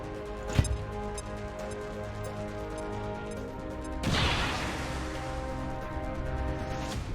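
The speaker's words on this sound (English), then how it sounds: "Grenade!" A grenade going off in XCOM 2: War of the Chosen, a single broad, rumbling blast that swells suddenly mid-clip and then tails off into low ongoing game music and ambience.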